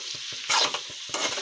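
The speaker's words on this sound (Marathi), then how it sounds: "याच्यामध्ये आता आपण टमाटर घालून घेऊ, तोपर्यंत टमाटर पण हलके फ्राय होऊन जाते" Tomatoes fry with potato and aubergine curry in a pan, stirred in quick, regular strokes over a continuous sizzle, with a louder burst of frying midway.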